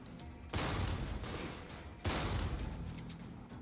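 A grenade explodes in Jupiter Hell, a sudden loud blast followed by a second heavy burst, each trailing into rumbling noise.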